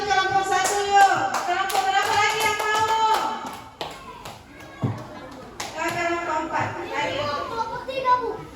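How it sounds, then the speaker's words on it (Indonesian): Rhythmic hand clapping from a primary school class, sharp claps in a steady pattern mixed with children's voices chanting along. "Mereka tepuk tangan"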